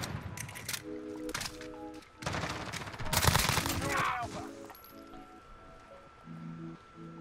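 Gunfire in Call of Duty Modern Warfare multiplayer, bursts of shots and a heavier volley mid-way, heard alongside game effects and players talking.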